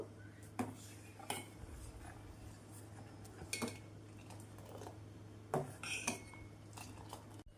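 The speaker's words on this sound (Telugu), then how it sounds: "ఇదంతా కూడా బాగా కలుపుతూ ఒక్క నిమిషం ఉడికించుకుందాం" A spoon stirs milk with almond paste in a metal pot, scraping and clinking at irregular intervals over a steady low hum.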